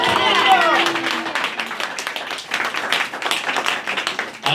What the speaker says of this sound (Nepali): प्रभुलाई ताली बजाएर धन्यवाद दिनुहोस्